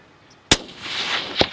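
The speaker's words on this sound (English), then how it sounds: "Shoot him again, right in the shoulder." A rifle fired while hunting a sika stag outdoors: one sharp, loud report with a lingering echo, then a second, fainter crack about a second later.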